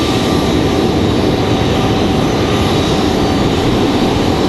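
An Icelandair jet airliner taxis at Raleigh-Durham International Airport, a close, loud and steady engine whine and roar with a constant tone running through it.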